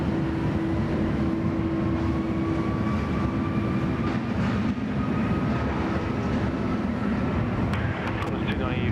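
A jet airliner takes off at Sydney Airport, its loud sustained engine roar and whine filling the air, with radio talk over it.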